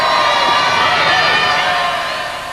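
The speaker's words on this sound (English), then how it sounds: "fellow torchbearer Marty Wilson, the crowd right behind him." A town crowd cheers and shouts as an Olympic torchbearer runs the flame through the streets during the torch relay, a steady, loud wash of voices that eases slightly toward the end.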